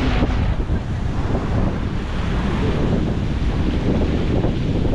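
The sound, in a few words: strong wind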